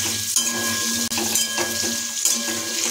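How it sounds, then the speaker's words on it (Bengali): Chopped garlic and slit green chillies fry in hot oil, hissing in a steady close sizzle, with a few stirring scrapes and a brief cut partway through. "তাহলে এখন আবার কিছু নাড়িয়ে নেব।"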